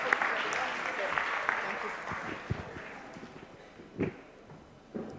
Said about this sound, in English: You can give a good round of applause